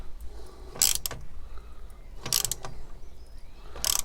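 A ratchet tightens the exhaust clamps on a Honda Deauville motorcycle during an exhaust replacement. Three short bursts of rapid clicking are spaced about 1.5 seconds apart, close and fairly loud over a low background hum, with no talking.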